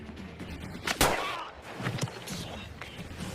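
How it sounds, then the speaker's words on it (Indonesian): A single sharp sniper rifle shot cracks out in a war film scene, a loud sudden report followed by a short decaying echo, with muffled movement and low sounds around it. "si penembak jitu kembali meluncurkan tembakan"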